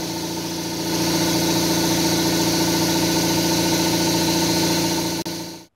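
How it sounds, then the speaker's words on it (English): An air compressor runs steadily in a workshop, a loud continuous motor drone with a dense harmonic hum that holds for about five seconds, a brief knock near the end, then cuts off abruptly. "There goes my compressor."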